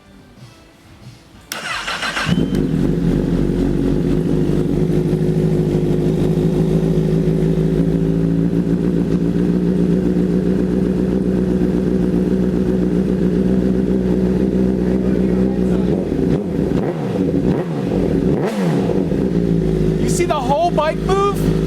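A 2008 Honda CBR1000RR street fighter build fires up after a quiet start and settles into a loud, deep idle, then gets blipped with sharp revs near the end while people talk nearby.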